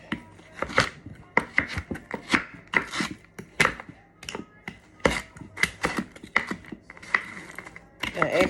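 Frozen food is chopped finely for parrot chop, a quick irregular run of sharp knife strikes on a cutting board, close and crisp.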